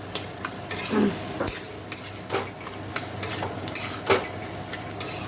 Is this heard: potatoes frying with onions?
yes